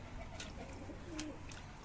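A pigeon coos softly on a rooftop, giving a few low, faint calls against a quiet background.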